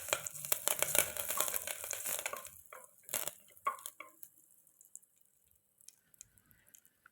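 Cinnamon, cloves, bay leaf and curry leaves go into hot oil and splutter with a burst of crackling and popping that is fairly close. The noise thins out after a few seconds into scattered faint pops and near silence.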